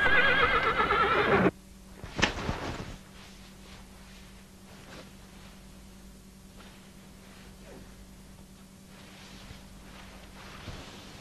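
A horse in a dubbed historical film lets out a loud, close whinny at the start, followed by a quieter stretch with a few faint, scattered knocks and thuds in the background.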